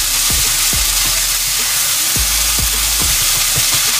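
Steak meat for steak hoagie mac and cheese frying in a pan, with a steady close sizzle and several sharp scraping stir strokes spaced irregularly throughout, no talking.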